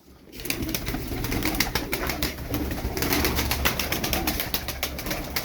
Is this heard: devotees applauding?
no